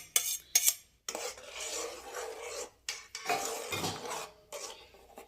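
Fresh cream and milk stirred in a pan for rice-flour pinni sweets, heard as close scraping and rasping strokes in several bursts, with brief pauses between passes of the spoon.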